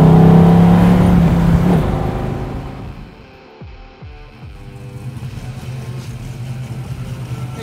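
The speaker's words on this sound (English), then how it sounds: "I'm gonna downshift and enjoy this ride." A 1969 Chevrolet Camaro RS/SS pro-touring convertible with an LS3 V8 drops through the gears while driving, engine tone falling and changing between shifts before settling into a steady, throbbing cruise.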